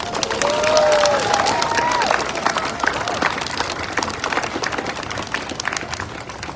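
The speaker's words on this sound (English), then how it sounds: "just a round of applause" Crowd applause at an outdoor solidarity rally against anti-Asian hate in Brisbane, many hands clapping steadily for several seconds and fading slightly, with a few voices calling out over it.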